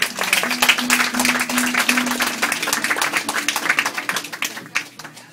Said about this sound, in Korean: 대한계 영광 박수를 드리겠습니다